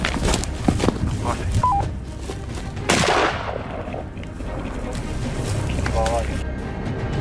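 A single sharp rifle shot cracks about three seconds in during a wild boar hunt near wheat fields, loud and close with a fading tail, while a voice talks before and after it.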